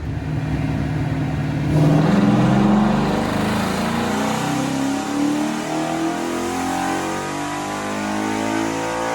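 Ford Mustang engine on a dyno, climbing through a long loud rev that peaks early and then holds a steady high-rpm drone, close and continuous with no talking.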